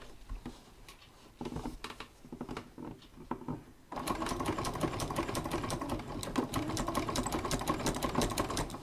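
A sewing machine stitches a sashing strip onto a quilt, a steady rapid mechanical whir that starts lightly then runs louder and continuous from midway, close up with no talking.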